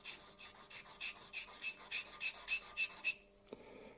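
A small high-speed steel drill bit being ground freehand against a slow abrasive, about a dozen quiet rhythmic rasping strokes, each short and even, ending with a faint clunk.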